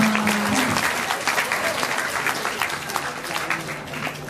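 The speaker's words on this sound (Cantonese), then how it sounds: "大家可唔可以俾啲掌聲啊？" Audience applause at a Hong Kong celebration ceremony, a dense steady patter of many hands clapping close by for several seconds, with a voice briefly speaking over the start.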